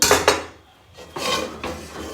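A metal wok clanks and scrapes onto a gas stove nearby, with a few knocks and a brief rattle.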